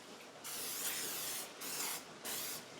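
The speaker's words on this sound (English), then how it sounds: "I just use a cooking oil spray because it's so easy" Cooking oil spray hisses onto cake pans in three short, close bursts, with brief pauses between them and no talking.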